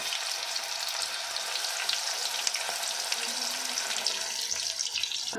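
Sweet corn deep fries in hot oil with a continuous dense hiss and bubbling sizzle, close and steady from start to finish, no voices.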